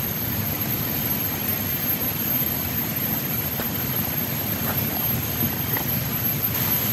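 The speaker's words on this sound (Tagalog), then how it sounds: "Papunta yung ingay ng motor doon" A distant motor drones steadily as it approaches, a constant low rumble with a faint airy hiss over it and no voices.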